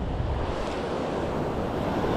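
Ocean surf on a San Diego County beach, a continuous loud wash of waves with wind rumble across the microphone, no voices.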